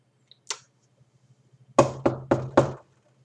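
Knuckles rap on a door: a single knock, then a pause, followed by a quick run of four firm, close knocks.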